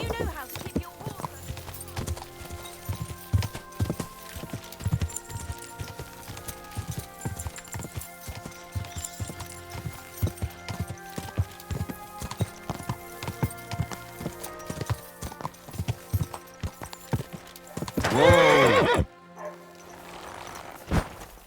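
Horse hooves clip-clopping steadily in Kingdom Come: Deliverance II, with a short neigh near the end, heard alongside game dialogue and ambient sound.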